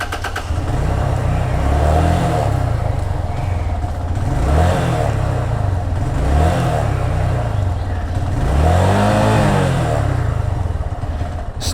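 Lifan KP165 motorcycle engine running loud and close, with its pitch rising and falling through several revs over a steady idle, and no speech over it.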